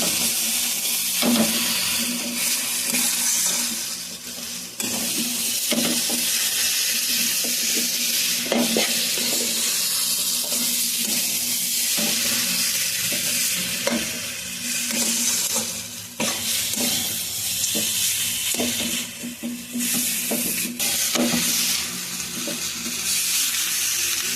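Jackfruit filling for chops is stirred and fried in a pan, with a steady close sizzle and hiss broken by repeated scraping stir strokes throughout, and no talking.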